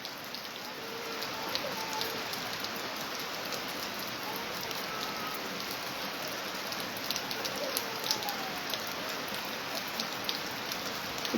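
Heavy rain pours steadily in Gol subdivision, a dense continuous hiss of drops with occasional sharper taps, evenly loud throughout with no voices.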